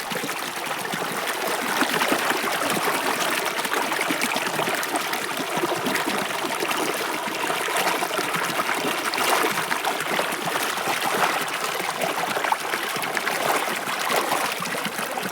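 Water flows through a corn farm field in a steady, full rush that stays even in loudness throughout, with no voices.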